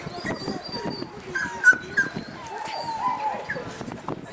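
Herding dog working sheep at a demonstration in Rambouillet, giving soft whimpers and yips amid outdoor ambience while a person talks nearby.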